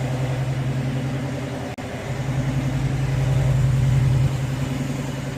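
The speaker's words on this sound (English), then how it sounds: "It's idling a little high." A first-generation Pontiac Firebird V8 idles high and steady after a Sniper EFI fuel-injection conversion, a loud, close, continuous rumble with a brief dropout partway through and a slight rise in pitch later.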